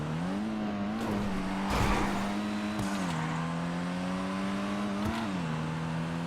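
Game car engine in Grand Theft Auto V on a test run, a steady droning note with gear-shift dips and revs rising and falling, loud and close, with brief scrapes or tire noise.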